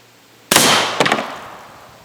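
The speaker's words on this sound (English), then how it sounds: "Heard the cinder block pop again." 300 Blackout rifle round striking a cinder block, a sharp loud crack followed a half second later by a second pop and crumbling clatter as the block breaks, trailing off in echo.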